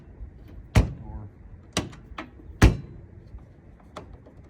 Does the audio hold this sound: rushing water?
no